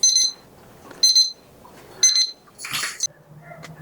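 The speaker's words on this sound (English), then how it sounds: "it will alert me on this unit when I reach the desired temperature" A digital cooking thermometer base unit, set to a target temperature for grilling fajita chicken, beeps in three short high-pitched bursts about a second apart, followed by a brief rustle and a soft lower tone.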